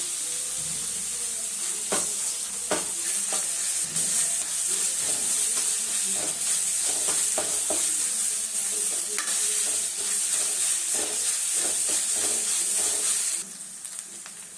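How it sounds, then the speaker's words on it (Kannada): Ginger garlic paste and onions fry in a pan with a constant bright sizzle, broken by repeated clicks and scrapes of stirring, before the sound drops away at the end; no one speaks. "ನಾನಿಲ್ಲಿ ಒಂದು ಸ್ಪೂನಷ್ಟು ಶುಂಠಿ ಬೆಳ್ಳುಳ್ಳಿ ಪೇಸ್ಟ್ ಹಾಕ್ತಾ ಇದ್ದೀನಿ"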